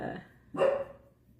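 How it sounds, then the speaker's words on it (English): Dogs barking at a back door, one sharp bark standing out over a faint low background, heard from a short distance. "My dogs are barking at me from the back door."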